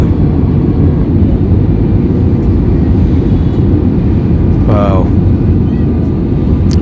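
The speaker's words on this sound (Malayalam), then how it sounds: "നമ്മുടെ വിമാനം അങ്ങനെ പറന്ന് പോവുകയാണ്" Steady, loud roar of an airplane cabin in flight from Bangalore to the Andaman Islands, a constant broadband hum with a brief faint tone partway through.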